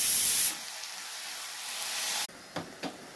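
Green chilli hits hot oil and sizzles in a steady hiss as it is stirred, starting with a louder burst and then settling. The sizzle cuts off abruptly near the end, followed by a couple of light scraping taps.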